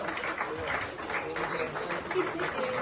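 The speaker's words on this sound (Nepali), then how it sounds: "जोरदार ताली से स्वागत करें" An audience claps to welcome a guest onto a stage at a leadership fellowship event, a steady mid-distance patter of applause running throughout with a voice speaking over it.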